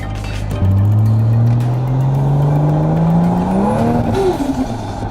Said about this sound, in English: I'll leave this window down here, so maybe you can hear a little turbo noise